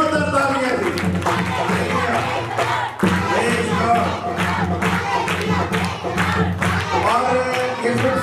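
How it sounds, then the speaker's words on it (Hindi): Church congregation at a Christmas festival clapping and cheering loudly in a crowd, with steady applause and shouts, while music and voices carry on underneath. "इनके लिए जोरदार तालियां"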